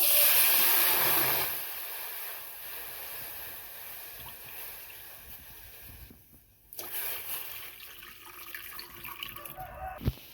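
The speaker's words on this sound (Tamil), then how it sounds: "தேவையான அளவு தண்ணி ஆட் பண்ணிக்கலாம்" Water runs from a tap into a pan for a moment while making sugar syrup for rasmalai, then quieter clinks and handling noises follow with light splashing near the end.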